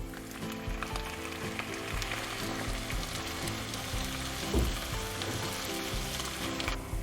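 Tomatoes and garlic added to a pan of caramelized onions, frying with a steady, continuous sizzle and a brief stirring scrape partway through, no voices.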